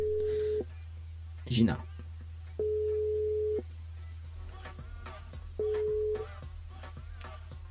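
A telephone line gives three steady ringing-tone beeps on a live radio call, evenly spaced and about a second long, with a short clunk between them and a voice speaking briefly near the end.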